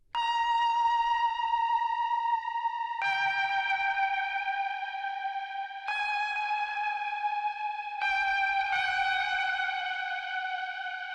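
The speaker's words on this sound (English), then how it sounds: "this guitar part here, which is actually a combination of guitar through space echo and more reverb, and then a Wurlitzer through space echo and tons of reverb" A guitar and a Wurlitzer electric piano run through a space echo with heavy reverb, bounced together into sustained bell-like tones. About four long notes change pitch in turn and fill the clip with no voices.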